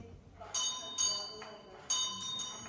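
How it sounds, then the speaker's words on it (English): Bells struck inside a museum, a few bright metallic strikes with ringing overtones, three or four hits spaced irregularly, moderately near, with faint background chatter. "Bells for ringing."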